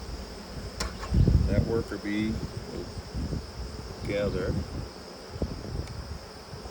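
Worker honey bees buzz steadily around an open hive during a summer nectar flow, a constant close drone with a few louder passes, under a beekeeper's occasional speech.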